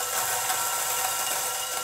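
A coffee grinder works through light roast espresso beans at a finer setting, a steady, close, high whirring grind that holds even for the whole stretch.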